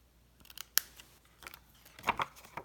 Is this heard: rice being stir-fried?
no